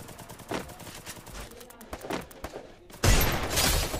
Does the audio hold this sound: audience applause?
no